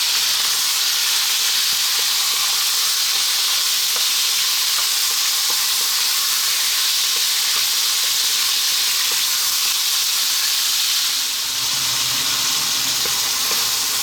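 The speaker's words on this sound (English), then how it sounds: "we're now going to drop in the beef. In it all goes." Steady, loud sizzling of beef frying in a hot pan over fairly lively heat, with constant hissing and faint stirring scrapes throughout, no voices.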